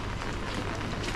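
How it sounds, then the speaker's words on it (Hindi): Steady rain falls in a small Chinese town street with shops closed, a dense even hiss of drops on surfaces with no distinct events and no talking. "बारिश भी हो रही है"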